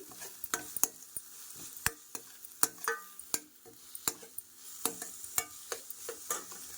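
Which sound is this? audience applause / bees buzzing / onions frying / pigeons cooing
onions frying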